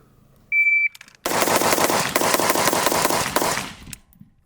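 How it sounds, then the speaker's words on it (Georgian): Rapid semi-automatic gunfire from a Daniel Defense V7 Pro rifle, a close, loud string of about a dozen sharp shots in quick succession, preceded by a short electronic beep. "ესე იგი, წინა იყო 12 გასროლა"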